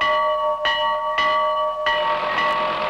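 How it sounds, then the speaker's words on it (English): A bell on a dairy farm rings loud and close, with repeated strikes about half a second apart and each ring leaving a sustained metallic hum. "the bell signals a nuclear attack in these parts"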